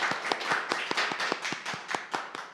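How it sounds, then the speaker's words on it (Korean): Audience applause at an academic sociology symposium in Korea as a discussant is welcomed: a steady run of individual hand claps from a modest crowd, moderately loud and without speech. "큰 박수로 맞이해 주시기 바랍니다"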